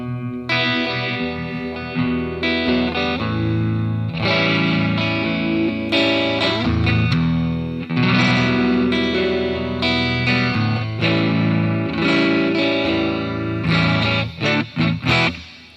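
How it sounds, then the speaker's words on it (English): An electric guitar plays loud, distorted chords and riffs through a Mooer GE300 effects unit, with lush reverb and chorus-like shimmer trailing each note. "As you can hear, the reverb's great."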